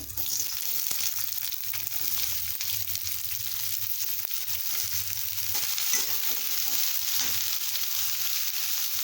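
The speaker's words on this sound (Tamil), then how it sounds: "எண்ணெய் நல்லா காஞ்சதுக்கப்புறமா கட் பண்ணி வச்சுருக்க 4 வெங்காயம் போடுங்க" Four cut onions fry in hot oil in a kadai, making a steady, close sizzle that runs unbroken through the whole stretch with no one talking.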